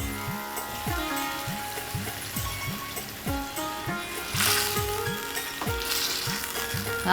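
Whole spices crackling in hot oil as a tempering for lentil dal, a steady dense sizzle running throughout with a repeated low swooping tone in the background.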